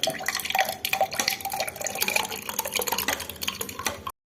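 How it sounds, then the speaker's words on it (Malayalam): Watermelon milk sarbath streams and splashes steadily into a glass for about four seconds, close and fairly loud, then stops abruptly. "പിന്നെ നമുക്ക് ഗ്ലാസ്സിലോട്ട് ഒഴിക്കാം."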